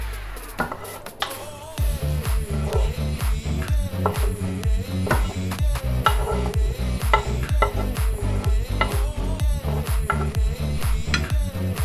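Meatloaf mixture with cooled vegetables being worked together in a bowl, a steady run of rhythmic wet squelching and slapping strokes, close and fairly loud, no talking.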